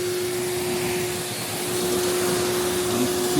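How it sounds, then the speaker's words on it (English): A vacuum cleaner cleaning a suede shoe runs loud and steady, a continuous whooshing roar with a fixed motor whine, heard close up and alone. "This is it. Vacuum cleaner at work."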